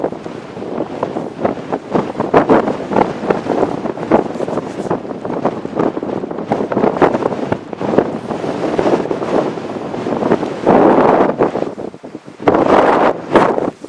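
Strong gusty wind buffeting the microphone on an exposed Welsh hilltop between Twmpa and Waun Fach, loud roaring rumble rising and falling in continuous gusts, close and alone.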